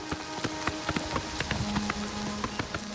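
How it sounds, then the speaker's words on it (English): Horse hooves clip-clop at a steady galloping rhythm in the video game Oblivion Remastered, close and fairly soft, over a faint background tone. "Good horse. Beautiful horse."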